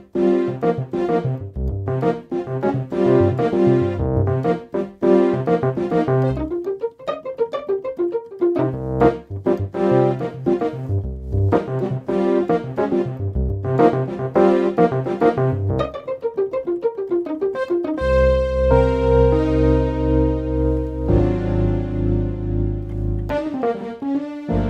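Layered piano patch on a Hammond SK Pro keyboard, built from all four allocations, plays a lively passage of stacked chords and runs, ending on sustained bass-heavy tones, with no talking.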